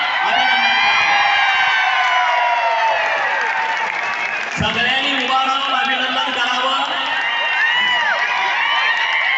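Rally crowd honoring the deputy chief minister at a Chaundi gathering, loud cheering and whooping mixed with clapping, shouts rising over a dense roar of many voices.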